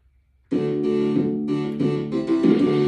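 Street Fighter arcade game audio from an Arcade1up Big Blue cabinet's speakers, a loud burst of music and effects that starts suddenly after near silence and keeps going with rhythmic, punchy hits.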